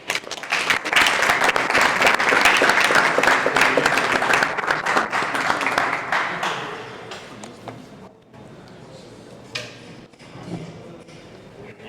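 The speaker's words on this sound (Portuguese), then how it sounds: "Uma salva de palmas, por favor." Loud audience applause, a dense wash of clapping from many hands, gradually thinning out and fading to scattered claps near the end.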